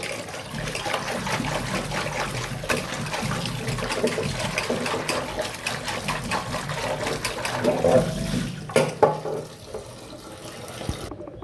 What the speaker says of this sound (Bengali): মাছটা এখন ধুয়ে নিচ্ছি।